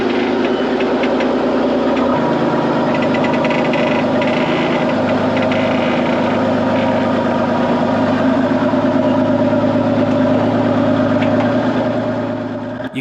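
An off-road sand buggy idles at a rough desert obstacle in Sand Hollow, Utah, its engine running loud, close and steady with a knocking mechanical rumble and a slight shift in pitch early on.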